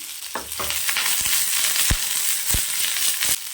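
Small onions, oil and curry leaves frying in a pan, a steady close sizzle with a few sharp crackles and pops scattered through it, no voices.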